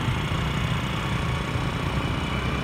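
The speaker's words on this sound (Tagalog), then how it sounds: "nakamotor kami." A motorcycle engine hums and drones steadily and evenly during a ride near Olongapo. No voices are heard over it.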